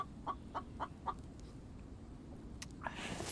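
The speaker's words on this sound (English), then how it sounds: "You wait until I get my barn built, chicken." A chicken in a survival video game clucks four times in quick, evenly spaced short bursts, then a few fainter sounds follow as the scene carries on quietly.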